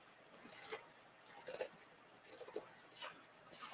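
Fabric is torn by hand for a faux macrame wreath, making a series of soft, raspy ripping bursts at an uneven rhythm. The sound is close but faint.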